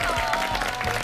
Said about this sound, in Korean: 박수 보내드리겠습니다, 진짜.